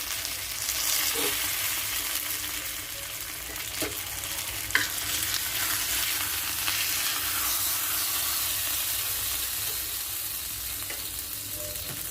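Curry leaves fry in hot oil with a dense, continuous sizzle and hiss, joined by occasional stirring knocks, close and steady with no voices.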